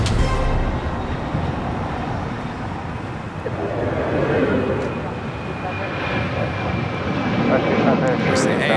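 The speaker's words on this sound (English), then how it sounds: "We also have the Aloha Air Cargo 767-300ER heading back to Honolulu. Flight 8201 lighting up." Aloha Air Cargo Boeing 767-300ER jet spooling up to takeoff power at LAX, a broad steady roar that swells slightly midway and stays loud throughout, with faint talk in the background.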